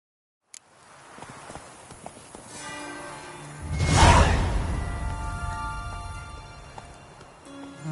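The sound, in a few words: horse Roach galloping in video game The Witcher 3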